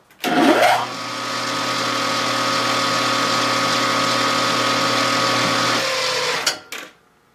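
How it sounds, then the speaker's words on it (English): Center drilling on a machine-shop lathe while making a pushrod guide, a steady motor whine that rises abruptly, holds evenly for several seconds, then cuts off and spins down. "Center drill."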